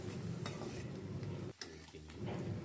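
Chopped onions fry lightly toward a pale brown in a pan for stuffed brinjal curry, giving a faint, steady sizzle broken by scraping stirs and a short pause partway through.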